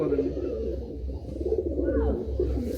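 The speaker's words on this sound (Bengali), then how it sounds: "এই দেখে নিন পায়রা" Pigeons in a loft cooing close by, low throaty rolling coos overlapping one another with a faint higher chirp in the background.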